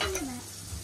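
Egg frying in a pan at breakfast, giving a short, fairly quiet sizzle with faint stirring or scraping, lasting under a second with no talk.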